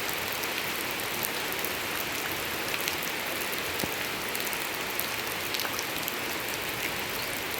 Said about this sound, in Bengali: দেখতে দেখতে কত জোরে বৃষ্টি শুরু হয়ে গেল।